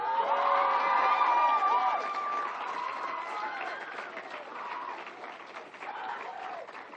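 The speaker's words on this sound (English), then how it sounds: "Let's get one more round of applause for Miss Alexander." A graduation crowd at Kihei Charter High School applauds and cheers a speaker, dense clapping mixed with whoops and shouts, loudest at the start and easing slightly while staying steady and full throughout.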